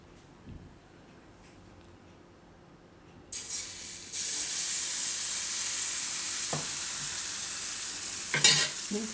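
After a quiet start, sabudana (tapioca pearl) batter hits hot oil in a frying pan and a loud, steady sizzle takes over, hissing continuously with a few small clinks.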